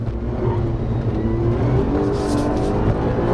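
Alfa Romeo Giulia Quadrifoglio engine driven hard on track on Pirelli P Zero tires with stability systems off, a loud sustained drone with steady revving close up and no talk.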